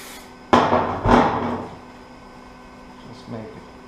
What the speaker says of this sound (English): So we use just a brake cleaner.